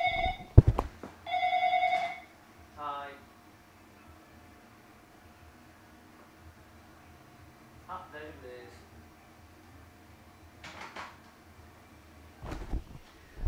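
A telephone rings near the start with two bright, trilling bursts, then gives way to long stretches of quiet and faint handling noises.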